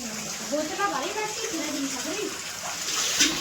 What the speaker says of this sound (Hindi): मम्मी बाल्टी भरने जाएंगी, नहाने के लिए पानी लगाई